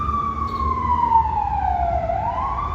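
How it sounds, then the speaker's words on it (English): A loud ambulance siren sweeps close by in Quetzaltenango, Guatemala, its tone gliding downward as it passes, then rising again, over the hum of road traffic. "there's an ambulance going by."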